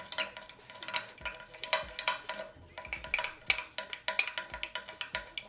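Homemade thermal paste being stirred together with petroleum jelly in a small container, a steady run of scraping, clicking strokes repeating in close rhythm, loud and near, with no voices.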